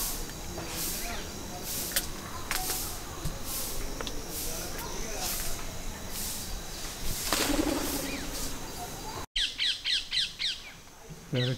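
Parakeets call from a guava tree on a small Indian homestead, their sharp squawks coming in bursts across a noisy background, with a rapid run of repeated high chirps near the end.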